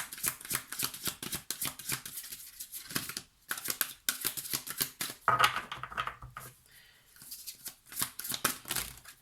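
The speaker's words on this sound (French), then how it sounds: "Allez, une carte supplémentaire." Tarot cards are shuffled and drawn close up in quick, irregular riffles and soft slaps that continue throughout, with brief pauses between handfuls.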